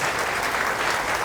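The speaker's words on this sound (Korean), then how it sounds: "강사님을 큰 박수로 맞이해주시면 감사하겠습니다." A seminar audience gives a lecturer a warm welcome with a broad, even wash of applause, steady and moderately loud throughout, with no clear voices over it.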